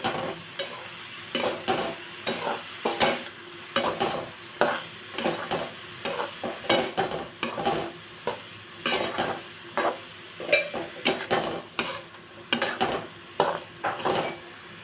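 A spoon stirs and scrapes cooked vegetables with salt in a pan in repeated rhythmic clanks and scrapes, close and fairly loud, over a soft frying sizzle.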